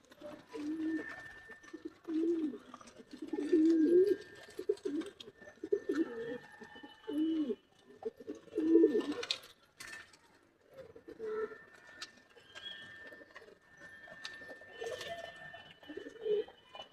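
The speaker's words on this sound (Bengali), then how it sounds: "বেশ কিছুদিন হলো কবুতর ছাড়ছি না বাইরে।" Pigeons in a rooftop loft coo repeatedly in low, rolling bursts with short pauses between them, along with faint clinks and a thin tone in the background.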